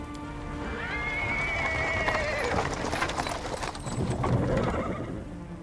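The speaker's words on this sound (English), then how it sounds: "He's interrupted by the sound of wheels rolling on the paving stones. A cart drawn by a sad little horse appears from around the corner." In the Pathfinder: Wrath of the Righteous video game, a horse-drawn cart clip-clops over paving stones with wheels rolling, a long whinny rising early, then steady hoofbeats and rumbling wheels close by.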